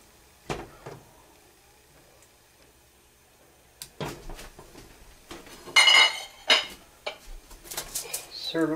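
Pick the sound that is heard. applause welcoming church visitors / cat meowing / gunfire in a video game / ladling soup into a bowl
ladling soup into a bowl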